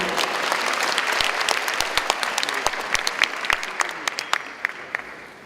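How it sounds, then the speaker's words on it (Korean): An audience at a citizens' forum in Ansan gives welcoming applause to a speaker taking the stage, a dense burst of clapping that thins out into scattered individual claps toward the end. "여러분 환영의 박수 부탁드립니다"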